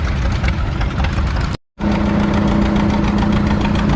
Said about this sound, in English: we have a different John Deere GT on the sled